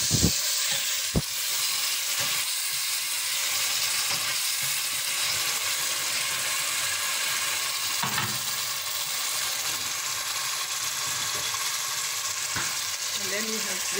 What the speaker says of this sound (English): quickly throw in the tomatoes